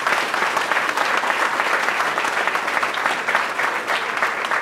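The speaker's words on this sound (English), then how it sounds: "So please give them a round of applause." Loud, sustained applause from an audience at a college workforce center groundbreaking, honoring state senators; dense steady clapping fills the whole stretch without a break.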